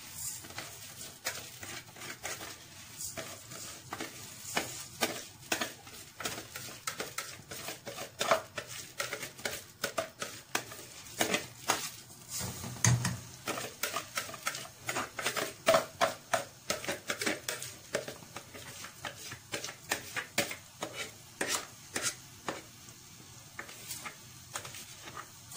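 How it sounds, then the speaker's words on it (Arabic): Uncooked Egyptian rice is stirred in ghee and oil in a pot, making a continuous soft sizzle under a dense, irregular run of scraping and tapping strokes that keeps up for a long stretch with no talking. "وهبدأ أقلب الرز في السمنة والزيت"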